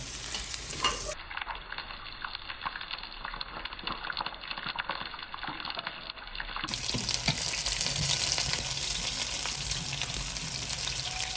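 Bluefish nuggets frying in hot oil, a dense, steady sizzle and crackle that grows louder and fuller toward the end.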